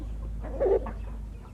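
A Thai show-bred fighting chicken (Thai Tae type) gives a short, close cluck or two, rising briefly over a steady low background hum.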